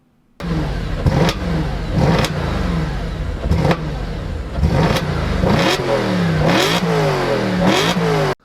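An older Audi RS4 barks to life and revs repeatedly in sharp bursts, its loud exhaust rising and falling close by between brief idles, with no one talking.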